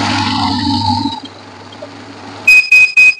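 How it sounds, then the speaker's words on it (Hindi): A VC 2108 rugged bill counter beeps three times in quick succession after it detects a fake note, sharp and close, following a fading mechanical whir of counting. "अभी बीप आ रहा है, यहाँ पे मैसेज आ रहा है, एरर कोड बी है।"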